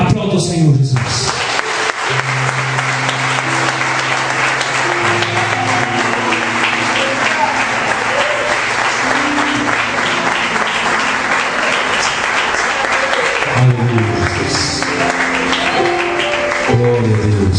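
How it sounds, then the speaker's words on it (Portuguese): A church congregation applauds loudly and continuously for over fifteen seconds, a dense wash of clapping with low sustained tones, likely organ or keyboard, running underneath. "Aplauda o Senhor Jesus."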